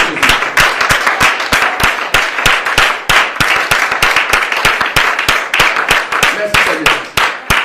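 A congregation in a church claps together in a steady, fast, even rhythm. The clapping is loud and close, and voices sit faintly underneath it.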